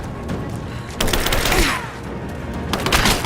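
Rapid gunfire erupts in a combat firefight in Rise of the Tomb Raider, a dense fusillade of loud, overlapping shots and thumps that swells and fades over a few seconds, with no voices.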